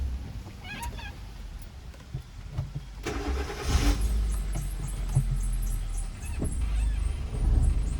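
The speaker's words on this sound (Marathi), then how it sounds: "गाडी येते मागून." A car comes up from behind on a road, its engine rising into a broad rumble that swells toward the end, with faint chirps and small clicks scattered over the steady noise and no talk.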